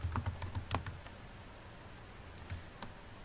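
Bursts of computer keyboard typing as CSS code is entered, a quick cluster of keystrokes at the start, then a pause and a few scattered taps, close and fairly quiet.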